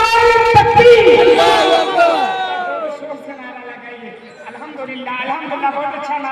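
A crowd chants back in unison in response to the Nara-e-Takbir slogan at a religious gathering, a loud, strongly voiced group shout that rises and then fades into scattered voices.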